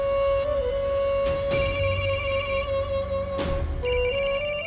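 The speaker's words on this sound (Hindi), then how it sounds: "फोन है।" A telephone ringtone plays loudly and steadily, a repeating electronic melody with bright tones that cycles several times without any talk over it.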